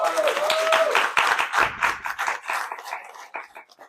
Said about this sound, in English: Let's give that a hand clap